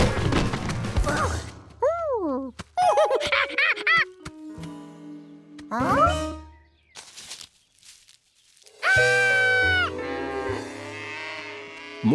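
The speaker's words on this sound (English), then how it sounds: "More cows were coming." Several cartoon cows moo in a field, with long, loud, bending calls arriving one after another, separated by brief quieter gaps filled with cartoon effects.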